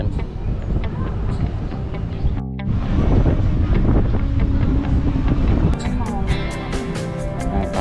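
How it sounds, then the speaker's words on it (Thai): Strong wind gusts buffet the microphone on a high skywalk in Kanchanaburi, Thailand, in the cool evening, a steady loud roar lasting the whole stretch with a brief dip partway through. "ลมแรงด้วย"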